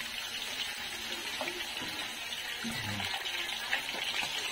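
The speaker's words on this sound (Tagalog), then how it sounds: "Okay, tubig na mainit na isasabaw ko." Hot water poured as broth into a pan of frying tofu for sweet and sour tokwa, a steady watery sizzle and bubbling that continues alone at close range.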